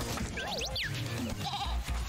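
A goat in the video game Moving Out 2 gives a couple of wavering bleats over busy cartoonish game music and effects, fairly faint in the mix.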